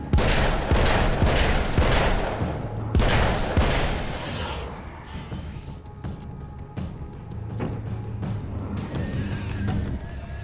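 Gunfire in the video game Alan Wake's American Nightmare: several sharp shots at a steady pace early on, followed by a quieter stretch of game ambience and a couple of faint later pops.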